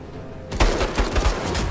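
Gunfire in the game Menace: after a quiet half second, a loud burst of rapid shots rings out, several sharp reports in quick succession, close and alone without talk.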